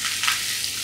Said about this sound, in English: So I keep stirring